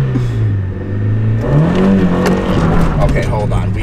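An old Honda Civic revs and accelerates up close, the engine note steady at first and then climbing as it pulls away, loud and continuous with a voice briefly underneath.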